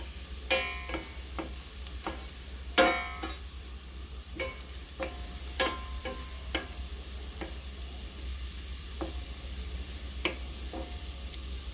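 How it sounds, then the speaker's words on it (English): A beef patty sizzles steadily in a hot pan with scattered sharp pops and clicks throughout, close and unaccompanied by talk. "Watch the sizzle."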